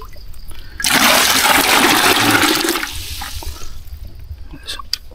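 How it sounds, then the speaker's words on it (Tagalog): Clear water is scooped into a bucket at low tide in the province, a loud rushing pour lasting about two seconds, then fading into lighter trickling and splashes close by, with no talking. "Salukin natin sa timba."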